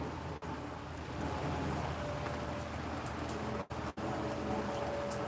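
Steady rain falls outdoors at a shooting range, a constant hiss of drops spread evenly across the whole stretch, with a couple of brief dropouts and no talk.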